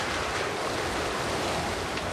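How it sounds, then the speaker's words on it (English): Hurricane storm surge waves pounding Topsail Island, a continuous loud roar of churning surf and wind with no clear breaks between waves. "A deadly storm surge is hammering Topsail Island."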